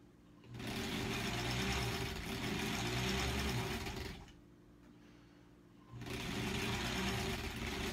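A sewing machine sews a quilt block seam for an American Spool block, running in two steady bursts of motor hum and needle chatter with a short quieter pause between them, close and alone.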